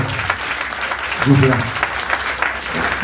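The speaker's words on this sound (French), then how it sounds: "On applaudit très fort." A church congregation at a Baptist inauguration service claps briefly, a short burst of mixed hand claps heard under overlapping voices and murmuring throughout.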